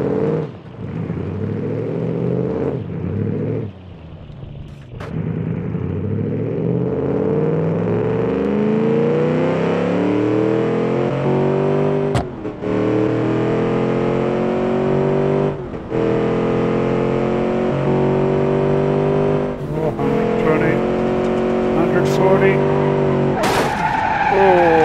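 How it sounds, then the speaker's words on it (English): In BeamNG Drive, a sports car skids and spins out, with sustained tire squeal and engine revs rising and falling across a long, loud, continuous stretch. "Oops, there we go, spinning out again."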